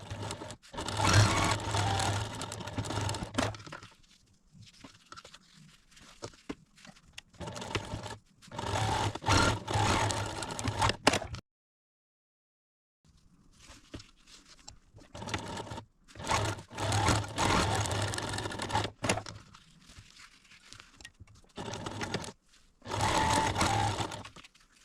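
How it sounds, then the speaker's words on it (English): A sewing machine stitches around a fabric potholder in steady, loud whirring runs with brief pauses between them and one longer stop partway through. "I'm going to take this over to the machine and sew it all the way around"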